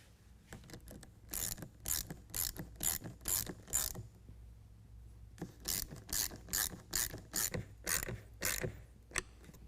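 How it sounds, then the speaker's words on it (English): A ratchet tightening an 11 millimeter bolt while installing an aFe Momentum air intake on a 2020 Ram 2500 6.7L Cummins diesel, with two bursts of quick close clicking strokes separated by a short pause. "we're going to go ahead and tighten that down with an 11 millimeter."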